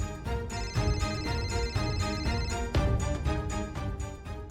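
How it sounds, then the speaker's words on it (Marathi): A telephone ringtone plays steadily in a domestic setting, a loud melodic ring repeating its tones throughout with no pause. "तुझा फोन वाजतोय"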